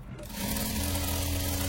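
A sewing machine runs steadily while stitching along the edges of fabric for a frock, a continuous close motor hum with no voices.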